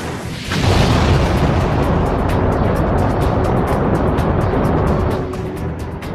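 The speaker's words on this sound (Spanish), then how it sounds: "El de Marte será la explosión de llamas que hará que despegue una nave lanzadera." A space shuttle lifts off on a rocket launch, giving a loud, sustained blast of roaring, rumbling thrust that swells in abruptly and holds steady for several seconds before easing slightly at the end.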